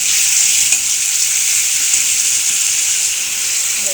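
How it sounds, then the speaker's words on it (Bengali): Fish curry sizzles loudly in a hot pan while being stirred, a dense continuous hiss of frying with faint scraping underneath, steady throughout. "এবার এটাকে ভালো করে নেড়ে চেড়ে অল্প একটু সিদ্ধ হয়ে গেছে"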